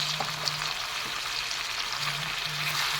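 Chicken with turmeric, coriander and cumin powder being stirred and turned with a spatula in a hot pan, a steady close sizzle of frying under faint scraping, no voices.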